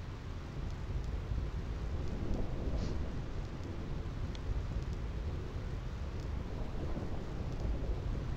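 Thunder rumbles continuously amid steady rain across the Thunder Plains in Final Fantasy X, a dense, unbroken low roar with hiss above it and no speech.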